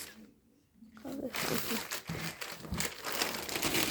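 A parcel with a Ronaldo book and a few cards inside is torn and unwrapped, giving loud, steady crinkling and crunching of packaging after a brief quiet start.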